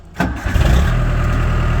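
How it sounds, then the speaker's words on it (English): A Bitelli BB642 gas-powered screed engine cranks and catches at close range, then settles into a steady, loud idle with a low throbbing hum and no talking. "engine is running on the takeover"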